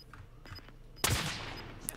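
Gunfire in the video game Warzone: a single sharp shot or short burst rings out at moderate distance after quieter background ambience, with a faint later crack.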